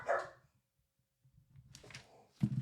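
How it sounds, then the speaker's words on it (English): A dog barks a few times nearby, short sharp yaps separated by a brief quiet gap. "My dog won't stop barking."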